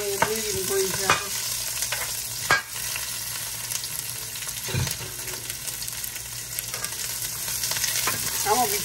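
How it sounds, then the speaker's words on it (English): Green peppers and medium onion sautéing in a hot pan for shrimp fried rice, a steady close sizzle with occasional stirring scrapes and clatter, no talking. "I'm going to let these peppers and onions saute a little bit before I throw the shrimp in with it"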